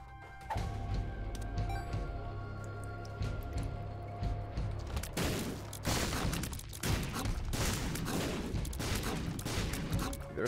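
Fires being put out in The Binding of Isaac Repentance, a dense run of loud crackling, popping bursts and booms from the game over a steady droning background, continuing almost without pause.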